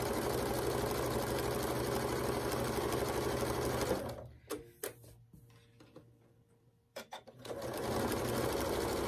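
A sewing machine runs steadily as it stitches pieces of quilt fabric for a four-patch block, loud and continuous, then stops for a few seconds of quiet handling clicks before starting up again.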